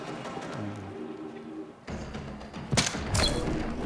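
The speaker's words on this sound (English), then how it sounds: "Shielding the bullet." Bullets strike an energy shield during combat in the video game Unknown 9: Awakening, giving a few sharp impact thuds over a steady game soundtrack and ambience, the hits growing louder toward the end.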